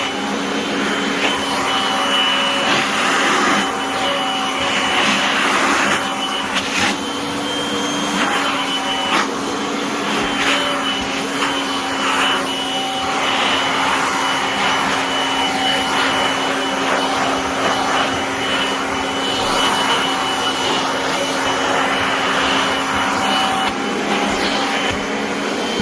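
Kirby Avalir 2 vacuum cleaner running steadily up close, a loud continuous motor whine with strong airflow hiss and stable tonal hum throughout, with slight shifts in pitch as it moves across a surface.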